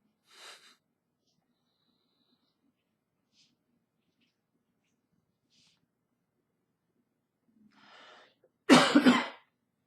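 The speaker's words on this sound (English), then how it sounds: "Excuse my coughing." A few faint, sparse sounds give way to a close, loud burst of harsh coughing near the end, with quiet breathing beforehand.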